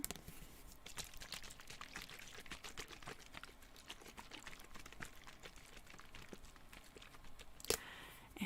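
Florida water being poured to purify a space during a quiet ASMR session; a soft, continuous trickle of liquid runs close up with light tapping clicks and a brief louder knock near the end.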